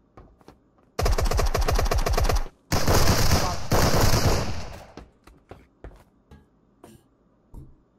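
Rapid Uzi submachine gun fire in a video game, two long loud bursts of fast repeating shots separated by a brief pause, followed by scattered fainter pops.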